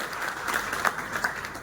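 Short burst of audience applause at a community gathering, a steady wash of clapping hands at moderate level with a few sharper peaks, no talk over it.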